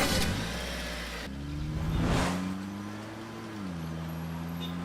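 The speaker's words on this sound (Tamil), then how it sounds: "டிரைவர், சீக்கிரம் வண்டி எடுங்க." A car engine turns over, catches and settles into an idle, then revs steadily as the vehicle pulls away, a continuous close drone with shifting pitch and no talk.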